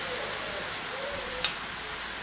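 Boondi batter pours through a perforated ladle into hot oil and fries with a soft, even crackle and sizzle, one sharper pop partway through, no talking.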